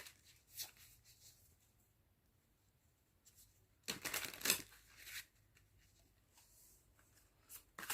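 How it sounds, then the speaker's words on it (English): Tarot cards are shuffled in soft, quiet riffles, with one louder, close flurry of card shuffling in the middle and faint rustles around it. "Let me shuffle real quick."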